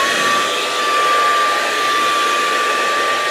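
A heat gun blows steadily while warming a part on a rear-wheel-drive Tesla Model Y before it is glued, a close, even whirring hiss with a thin constant whine and no talking.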